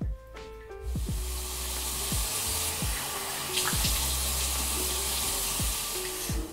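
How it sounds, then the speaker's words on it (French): Tap water runs steadily and close by as a face is rinsed, a continuous splashing wash with a few louder surges of water against skin and basin. "une fois que j'ai bien massé mon visage, je vais le rincer."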